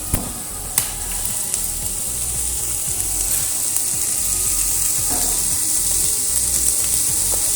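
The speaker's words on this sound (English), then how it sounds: "I want to quickly, very quickly, saute my onions" Onions sautéing with mince in a pan, a steady hiss with small spits and a couple of sharp utensil clinks near the start, continuous and close, no talking.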